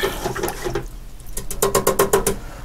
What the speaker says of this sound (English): Just rinsing off the fan brush real quick.